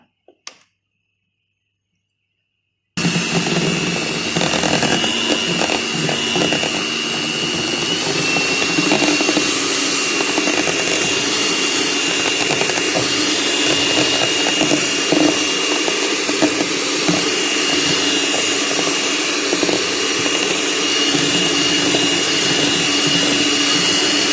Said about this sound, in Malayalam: ഇനി ഇതൊന്ന് ബീറ്റ് ചെയ്തെടുക്കാം.